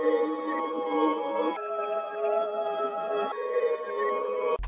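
A smooth, sustained synthetic melody sample, pitched up an octave and reversed, with gliding, swelling tones changing pitch every second or two, ending with a short low thump.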